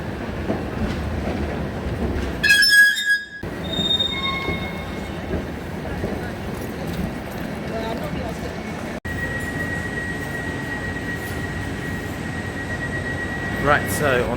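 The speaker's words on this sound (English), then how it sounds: "One of my most favourite trains, the class 745s." A Greater Anglia class 745 electric train arrives at a station platform, its rumble carrying on under a long steady whine and a brief squeal, with some chatter around.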